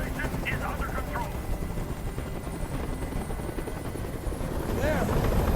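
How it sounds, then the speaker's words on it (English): Helicopter rotor thrumming steadily overhead in the video game Detroit: Become Human, a constant loud drone that swells toward the end, with speech and game sounds on top. "Tell that helicopter to get out of here."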